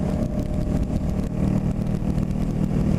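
Honda CB500 motorcycle exhaust held at about 60 mph freeway speed in top gear, a steady, loud, close engine drone mixed with wind rush, constant throughout.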